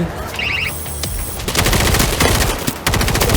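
Rapid automatic gunfire from World War Z horde mode, where dense bursts of machine-gun fire fill the second half amid loud zombie-battle chaos, after a quieter opening with interface beeps.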